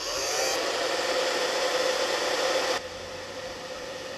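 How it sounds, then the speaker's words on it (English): A handheld blow dryer runs loud and close as it dries art foam, a steady airy roar that shifts to a lower, softer setting partway through, with no voices. "I'm going to blow dry just so I can move a little faster here."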